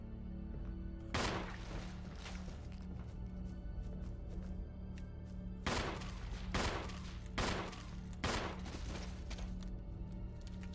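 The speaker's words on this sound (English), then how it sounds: "it's ridiculously easy to kill them with a pistol" Pistol shots in the Resident Evil GameCube game, several sharp single reports spaced a second or so apart, loud against a low humming background, with a louder cluster of shots near the end.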